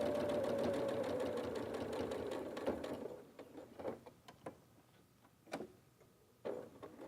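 Sewing machine stitching close to a pocket edge on pants, a steady mechanical whir for about three seconds, then stops, followed by quieter clicks and short bursts of stitching.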